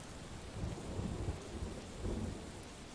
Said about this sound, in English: Why must it rain?